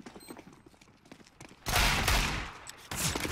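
A loud burst of rapid gunfire erupts midway in Counter-Strike on the Cache map, following quieter clicks and shuffling, with a second burst near the end.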